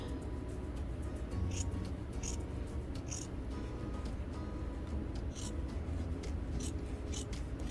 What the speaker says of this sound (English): I would first trim off the excess quilt bat.